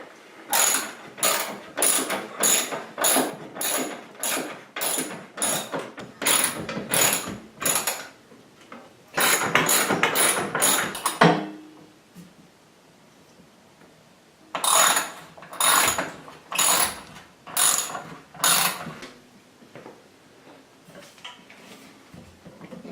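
Socket wrench ratcheting in rapid bursts of clicks while a heavy-duty shower grab bar is fastened to the wall, close and loud, with pauses between runs and no talking.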